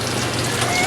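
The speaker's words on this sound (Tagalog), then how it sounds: "Ang lakas ng ulan." Heavy rain pours steadily onto a rural hut roof, a dense and continuous hiss that stays loud and even throughout the short stretch with no other sound on top.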